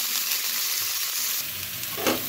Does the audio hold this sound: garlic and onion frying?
yes